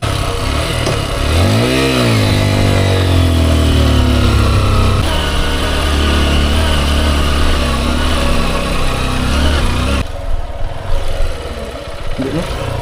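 A motorcycle engine idles and revs steadily up close, a rising pitch sweep early on, then settles into a continuous drone before dropping off sharply near the end, with faint voices around it.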